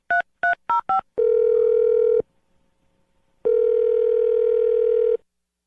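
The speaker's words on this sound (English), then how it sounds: "we're going to dial the phone number right now" A landline handset sounds four quick touch-tone dialing beeps, then a steady tone of about a second that returns after a short silence, loud and close.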